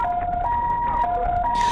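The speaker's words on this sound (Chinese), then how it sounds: "救护车火速前往" Ambulance siren wailing loud and close as it rushes toward a road crash, a steady alternating two-tone pattern over traffic noise.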